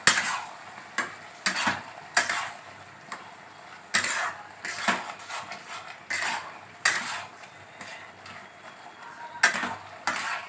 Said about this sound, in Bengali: এবার আমি এটা নাড়িয়ে দিচ্ছি।